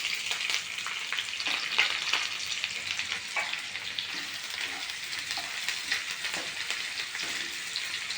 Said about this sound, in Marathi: आणि नंतर आपल्याला हा शिरलेला कांदा टाकून घ्यायचा आहे